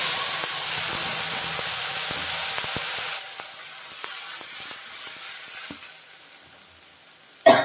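Onion and green chili paste sizzles in hot oil with nigella seeds, a close, steady frying hiss that drops partway through and continues more softly, ending with a brief clatter.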